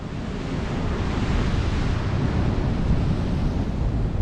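Ocean surf pounds the rocky coast near Thor's Well and Spouting Horn, a continuous, loud roar of breaking waves mixed with gusty wind buffeting the microphone, with no voices.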